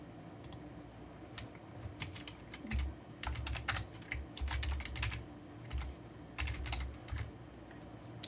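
Computer keyboard keys tapped in irregular bursts while entering text into a box, close and fairly quiet, with soft clicks and short pauses between runs of keystrokes.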